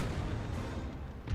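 French cannons fire in a Napoleon: Total War battle, as a steady low booming rumble of artillery that holds loud through the short moment.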